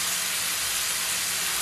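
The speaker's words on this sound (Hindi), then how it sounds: "अब अच्छे से इसको जो है वो फ्राई कर लेंगे" A chicken mixture with chili flakes and black pepper frying in a pan makes a loud, dense, unbroken hiss close up, steady throughout with no talk.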